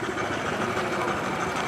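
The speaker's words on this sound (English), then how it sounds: "And that's traction engine, small traction engine." Small steam traction engine running at an outdoor vintage vehicle gathering by the Dean Forest Railway, a close, steady chuffing rumble with broadband hiss, brief and continuous.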